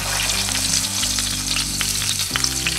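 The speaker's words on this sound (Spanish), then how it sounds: "En un sartén agregamos un chorrito de aceite y mantequilla." Chicken breasts sizzling in a pan with oil and butter, a dense, steady crackling hiss with small pops throughout, close up and with no talking, over a faint low background hum.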